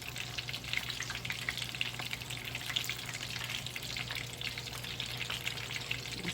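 Chicken pieces deep frying in hot oil for crispy fried chicken, a steady dense sizzle and bubbling that holds at an even level throughout, close by with no talking.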